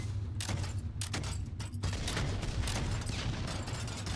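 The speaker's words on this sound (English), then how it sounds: "Rapid grenade launcher." Rapid grenade launcher in the Project Stray video game, a steady stream of dense rapid firing blasts that sound rough and mechanical, with no voices.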